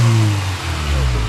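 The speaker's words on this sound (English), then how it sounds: "It runs like a normal car." A Honda S2000 engine runs while driving, a steady low mid-pitched drone with a slight shift in pitch partway through, fairly loud and close.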